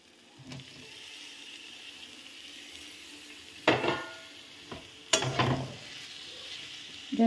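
Snake gourd sizzles quietly with tomato sauce in a pan on a gas stove. Two louder bursts of scraping and spattering rise over the low hiss, with no talking.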